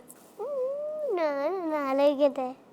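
A person imitates a cat, giving a drawn-out, pitch-bending meow that rises and falls for about two seconds, close and clear against a quiet background.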